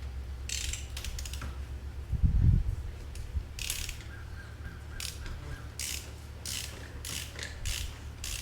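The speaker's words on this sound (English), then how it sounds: "we're gonna put it on the cap of the oil filter, and we're gonna twist this thing off so we can pull the cartridge out" Ratchet wrench clicking in short bursts while twisting off the plastic oil filter housing cap on a 2020 Ram 2500 Cummins diesel, with a brief louder knock midway; fairly close and otherwise quiet.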